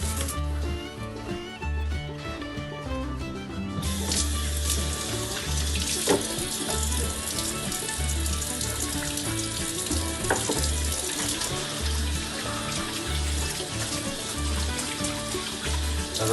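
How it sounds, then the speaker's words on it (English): Hands being washed under a steadily running kitchen tap after handling raw pork chops, a continuous close rush of water with no talking. "make sure you wash your hands after messing with raw meat"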